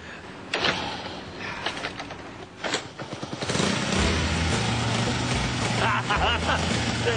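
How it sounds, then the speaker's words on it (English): A motorcycle engine being started, with a few clicks and short cranking bursts before it catches and settles into a steady, close idle that runs to the end. "See if we can start it."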